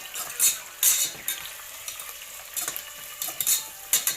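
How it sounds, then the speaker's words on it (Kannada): Onions frying in a pan for Karnataka-style kichdi, a low sizzle broken by repeated stirring scrapes and clinks of a utensil against the pan, close and without speech. "ಆಮೇಲೆ ಈರುಳ್ಳಿ ಹಾಕ್ಕೊಂಡು ಹಾಗೆ ಚೆನ್ನಾಗಿ ಫ್ರೈ ಮಾಡ್ಕೋಬೇಕು."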